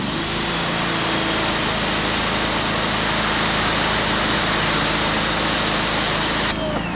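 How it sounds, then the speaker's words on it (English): A generator runs beside a mobile car-detailing pressure washer setup, giving a loud, steady roar with hissing spray-like noise that continues without a break until a brief change near the end. "Again, generator's still running, so I apologize"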